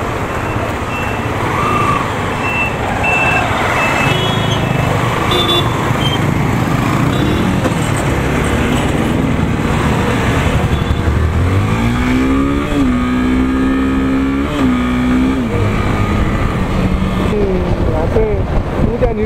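Three motorbikes carrying six riders travel a road toward Makwanpur Gadhi in Nepal, with a continuous close engine roar and wind buffeting, a rising engine whine midway, and people talking over it.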